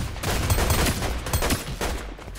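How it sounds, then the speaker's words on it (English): Dense, rapid gunfire with layered hit impacts from the Fortnite video game, including its new headshot sound, continuous and loud throughout without any talking. "If you hit a headshot during this, you'll hear a brand new sound"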